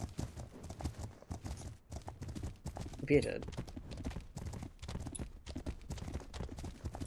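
A horse's hooves clip-clop steadily in the Legend of Khiimori video game as it walks at a regular rhythmic pace, with a brief neigh near the middle. A person talks quietly over the hoofbeats.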